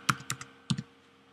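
A computer keyboard taps out a short file name: four or five quick, light keystrokes in two small clusters, close and clear, then quiet.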